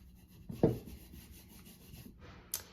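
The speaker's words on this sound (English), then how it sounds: "We're just going to use our little rag and just rub it in." A rag rubs shoe polish onto a thrift-store pot, giving soft close scrubbing strokes with one louder rub early and a sharp scrape near the end, no talk.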